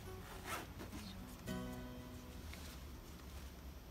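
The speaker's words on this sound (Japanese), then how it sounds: "ファスナーをファスナーのスライダーですね、ずらしてもらえたらいいんじゃないかなと思います" A concealed zipper's slider is pushed along its fabric tape while a lining is sewn in, giving soft, faint scraping and rubbing over a steady low background hum.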